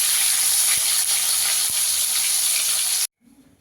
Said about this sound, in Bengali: উচ্ছেগুলোকে একটু লাল করে ভেজে নেব